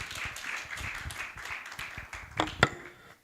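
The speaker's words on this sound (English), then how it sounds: "Can we give a round of applause" An audience at a church empowerment session gives a round of applause, light scattered clapping at low level, with a couple of sharper, louder claps near the end.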